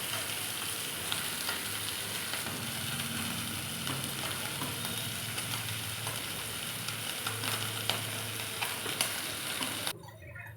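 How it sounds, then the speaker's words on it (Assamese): Small fish frying in oil in a pan, a steady close crackling sizzle with occasional stirring scrapes throughout, ending abruptly. "এয়া মাছ ফ্ৰাই হৈ আছে"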